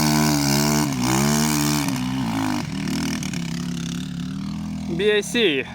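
Air-cooled 170cc enduro motorcycle engine revving and droning nearby, shifting pitch as it runs through mud, with someone talking over it and a sharp high rev burst near the end.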